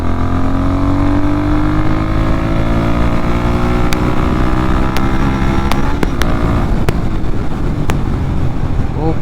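Royal Enfield Guerilla 450 motorcycle ridden at high speed: a loud, continuous engine drone with rising pitch over heavy wind rush, with several sharp clicks near the end.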